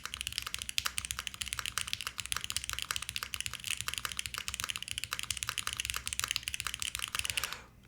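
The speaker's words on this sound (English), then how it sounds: "I'm gonna unplug it while I do this typing test." Fast, continuous typing on a KBD8x MKIII mechanical keyboard with Harmony linear switches, a loud, close stream of sharp, rapid key clacks that runs steadily for several seconds before stopping.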